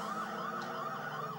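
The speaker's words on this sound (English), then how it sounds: "No, it's the police car this time." Police car siren from the Amiga game F40 Pursuit Simulator, a steady wailing electronic tone that sweeps up and down in repeating cycles, loud and continuous with no talking over it.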